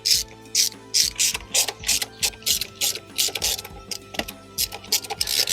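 A ratchet tightens bolts holding the snorkel cover onto the supercharger of an Audi S4, making close, loud, rhythmic clicking bursts in quick repeated strokes with brief pauses between.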